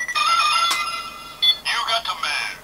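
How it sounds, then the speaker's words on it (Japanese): A toy DX Faiz Phone X from Kamen Rider Zi-O plays its electronic ringtone, a bright beeping melody followed by a sharper trilling burst, close and loud with a person speaking briefly over it. "これがね着信音なんだって"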